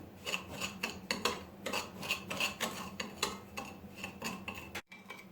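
Sugar being crushed and stirred with a spoon in a container for homemade lemonade: repeated scraping, grinding strokes in an uneven rhythm, close and moderately loud, with a brief pause near the end and no talking.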